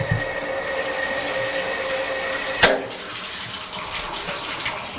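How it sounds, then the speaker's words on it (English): A shower with brass fixtures runs in an older house, giving a steady, close hiss of spraying water with a faint tonal hum and one sharp knock partway through. "I'll let you hear the sound of the shower."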